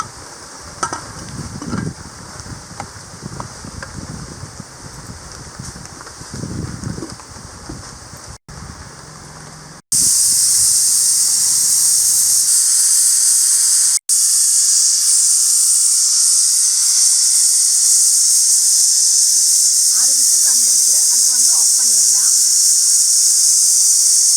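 A pressure cooker holding mutton curry in a village kitchen gives a sudden loud, sustained hiss of escaping steam after a busier stretch of cooking sounds, then keeps hissing steadily.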